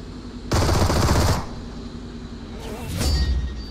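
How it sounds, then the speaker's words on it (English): A video game firefight with a pistol: one burst of rapid gunfire crackles for about a second, and a shorter, fainter burst follows a moment later over low background noise. "I used a pistol on him, bro."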